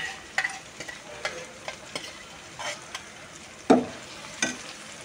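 Cashew, ginger, garlic and green chilli paste frying in a pan during curry making: a soft, faint sizzle with a few sharp scattered knocks and scrapes of a spoon stirring.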